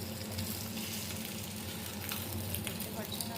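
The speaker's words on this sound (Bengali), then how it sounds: "এটা ভাজা হচ্ছে, আমি এটা পাল্টিয়ে দিচ্ছি" Pieces of shol fish fry in hot oil in a pan, giving a steady, fairly quiet sizzle with faint crackles throughout and no voices.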